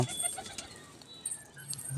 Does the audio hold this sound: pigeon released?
yes